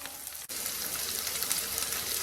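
Garlic and onion sizzle steadily in a hot pan while browning for a Tamil garlic chutney, a close, even crackling hiss with a brief dip near the start and no voices.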